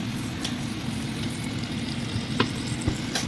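Garlic from a home garden sautés in butter in a pan, producing a faint, continuous sizzle broken by a few light stirring clicks toward the end.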